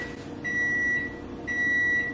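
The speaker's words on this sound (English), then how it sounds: "I'm gonna put this in the microwave for probably about 30 seconds" A microwave oven runs with a steady hum and a tonal whine, alone and close by, the hum briefly dipping and then rising again.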